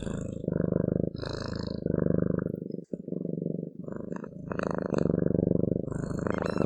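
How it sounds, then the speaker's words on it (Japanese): A cat purrs loudly and close up, a continuous rumbling rhythm of in-and-out breaths with a brief pause partway through. "猫を撫でると喉から音が聞こえます。"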